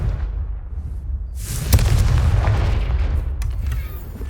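A Confringo blasting spell explodes in Hogwarts Legacy, a sharp burst with a deep booming rumble that carries on as a steady loud roar to the end.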